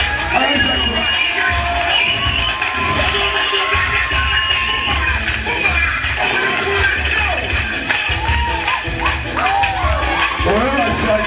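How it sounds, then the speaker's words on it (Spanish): A large crowd at a live show in Argentina cheers and applauds for Chacho, loud and continuous, with shouts, whoops and chanting voices blending into a dense roar. "¡Aplauso para Chacho!"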